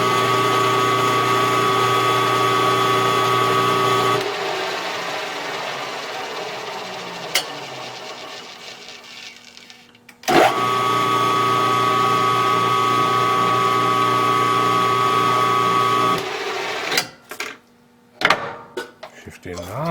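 A small homemade lathe hums and whirs steadily in low gear in two long running spells, separated by quieter gaps with clicks and clunks as it is shifted and tightened.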